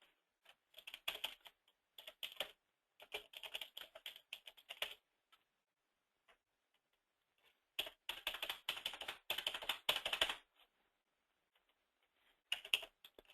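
Credit card details are typed on a computer keyboard in quick, quiet bursts of close keystrokes, with pauses of silence between the runs.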